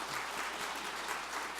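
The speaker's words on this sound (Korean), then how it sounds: "우리 박수로." Church congregation applauding during a Sunday service, a dense, even patter of many hands heard from a moderate distance, quiet and steady throughout the brief moment.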